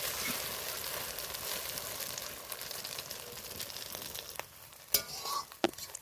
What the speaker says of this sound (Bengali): এটাও উল্টে ভেজে নেব